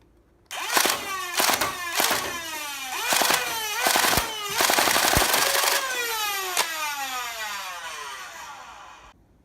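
A Foxfire MBS blaster cycling in full auto gives rapid, loud mechanical bursts of repeated shots with whining overtones, running steadily for several seconds, close up and with no voices.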